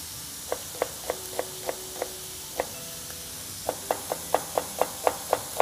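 An onion being finely chopped with a knife on a board in a kitchen, crisp regular knife taps in two quick runs separated by a short pause, close and fairly quiet with no talk.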